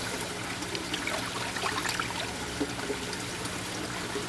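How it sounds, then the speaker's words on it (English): Water streams and trickles steadily as a hand is rinsed off in a container of water during work on a faux bois concrete bridge, with soft splashes and no talking. "Wash your hand off in that water."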